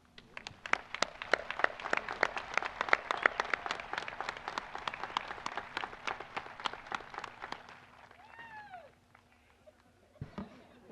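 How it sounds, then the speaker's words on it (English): Applause from staff and families at a West Allegheny high school commencement, a broad crowd of clapping that runs steadily for about eight seconds, then thins and fades, ending with a brief close thump. "Staff and families, I'm going to ask you to please join me in a round of applause to recognize their efforts."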